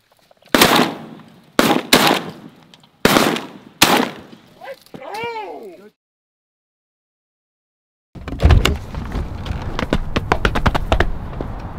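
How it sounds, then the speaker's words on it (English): Shotgun blasts during a Texas sandhill crane hunt boom out loud and close, several in an uneven volley, followed by crane calls before a sudden silence and then rustling field noise. "I'll shoot him."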